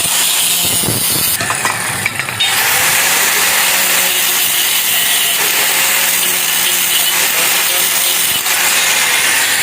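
An angle grinder cuts metal during a rickshaw repair, giving a loud, continuous harsh whine close by that holds almost unbroken through the clip, with a brief break early on and voices faintly underneath.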